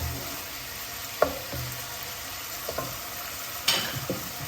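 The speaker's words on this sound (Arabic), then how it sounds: "القرعه الخضراء النيت، غنخليهم هكا يشمروا" Green zucchini sautéing in a pan with green beans, a steady close sizzle broken by a few sharp stirring scrapes and clinks of a utensil against the pan.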